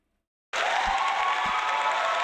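An applause sound effect bursts in abruptly after a half-second of silence, a loud, steady crowd clapping and cheering that holds evenly to the end.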